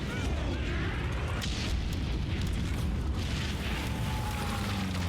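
Bombing raids on London in the Hearts of Iron 3 strategy game: a dense, continuous rumble of overlapping distant explosions and booms, steady and loud throughout with no clear breaks.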